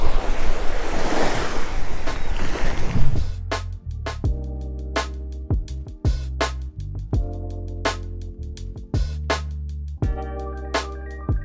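Strong wind buffets the microphone over crashing surf on a saltwater fishing beach, loud and blustery for about three seconds before music takes over.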